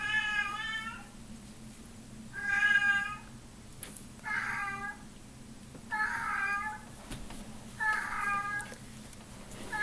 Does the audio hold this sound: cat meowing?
yes